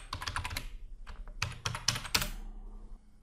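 An administrator password is typed on a computer keyboard in quick, irregular bursts of crisp key clicks, a few heavier strokes near the end, close and clear with no voices.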